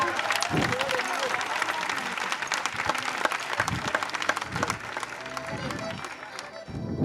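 Audience applause with cheering erupts at a comedy show held in a school of laughter, uneven claps and crowd noise rising and falling while voices talk over it.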